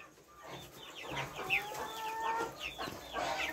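A flock of free-range chicks and growing chickens clucks and peeps continuously, with overlapping chirps and short clucks at moderate distance over a quiet outdoor background.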